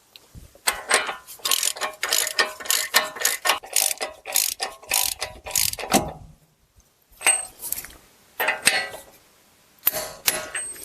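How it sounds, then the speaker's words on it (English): A torque wrench ratchets a Chrysler Town & Country axle nut up to 120 foot-pounds, producing rapid, loud clicking bursts, a pause, then shorter clicking runs close up. "I'm going to torque mine to 120"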